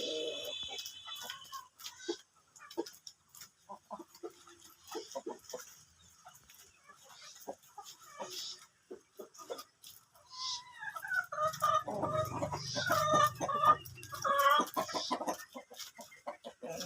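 Native village hens cluck in short, broken calls, getting louder and busier toward the end, with light scuffling around them.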